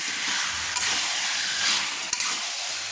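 A kilo of chicken sautés in a pan with spices for curry, giving a loud continuous sizzle and hiss with a couple of sharp stirring knocks.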